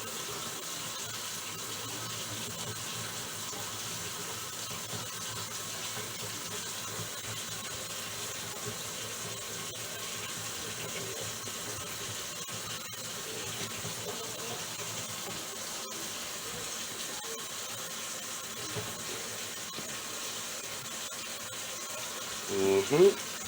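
Tap water runs steadily through a kitchen sink under a newly installed garbage disposal, a constant broadband rush that holds evenly for the whole stretch before a brief clatter near the end.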